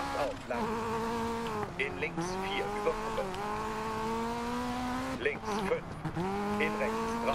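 A rally car on a Spanish stage in DiRT 4 drones along at high revs, the engine note rising and falling through repeated shifts, with short tire squeals on corners and a voice talking over it.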